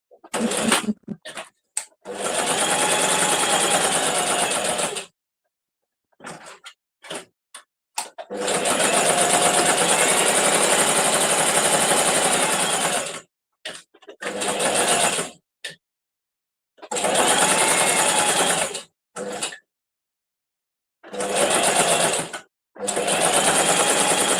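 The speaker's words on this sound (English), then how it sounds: "But you hear my sewing machine." A sewing machine runs in several loud, steady bursts of whirring stitching, separated by short pauses and clicks.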